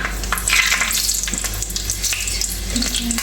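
Fenugreek seeds are dropped into hot oil for a kurukku kaalan. A dense, continuous sizzle and crackle is loud and close and holds steady for the full few seconds, with no voices.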